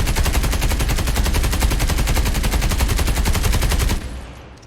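Rapid automatic weapon fire from COD Mobile, a steady run of loud, evenly spaced shots lasting about four seconds before cutting off, leaving a faint tail.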